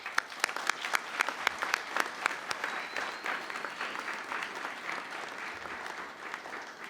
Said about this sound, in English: and they owe you a round of applause.